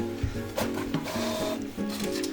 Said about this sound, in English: paper going through, no problem